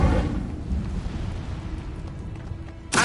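The Incendio fire spell from Hogwarts Legacy lets out a low, rumbling whoosh of flame that roars in loudly, dies down into a steady crackling burn, then flares again in a sharp burst at the end.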